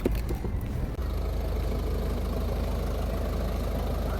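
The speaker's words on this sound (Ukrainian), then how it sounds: "Запускаємо двигун." A Ford Focus 3 car engine idles steadily with a low, even rumble after a brief uneven start, continuing alone without voices.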